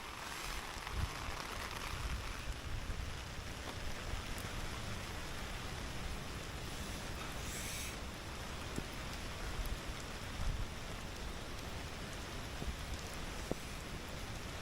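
Steady rain falls continuously, a dense, even hiss of drops on surfaces lasting throughout with no voices over it.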